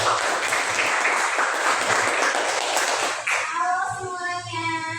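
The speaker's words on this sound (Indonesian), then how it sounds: "Tepuk tangan dulu untuk Ibu Rizka." Applause from a group welcoming a teacher into a training session, a burst of clapping for about three seconds that cuts off, followed by sustained musical or tonal sound with light voices.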